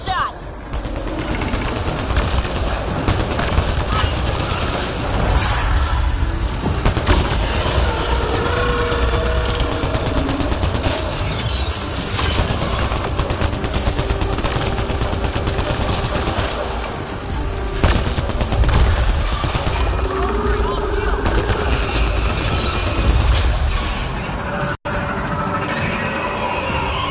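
Video game gunfire aimed at a headshot: sustained bursts of shots run through the whole stretch at steady loudness, with voices talking over the shooting.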